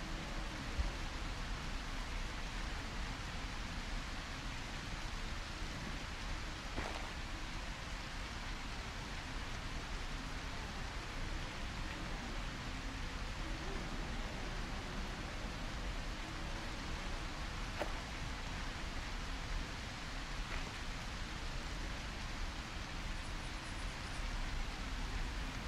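Steady, dense rain hiss in A Quiet Place video game, a continuous broadband wash of falling water holding at an even level throughout with only faint scattered ticks and no voices.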